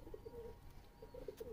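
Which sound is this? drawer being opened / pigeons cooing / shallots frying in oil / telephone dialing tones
pigeons cooing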